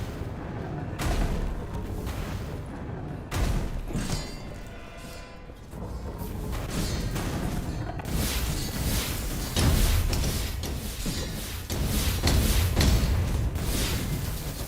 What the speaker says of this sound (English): Nice explosions happening.